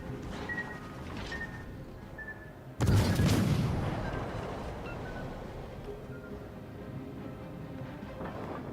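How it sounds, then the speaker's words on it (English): A kamikaze plane crashing into a ship's island in World of Warships Legends bursts into a loud, deep explosion with a rumbling tail that slowly fades, set against steady battle ambience and faint tonal game sounds. "the kamikaze just absolutely whiffed the torpedo launchers there and hit the island instead of me"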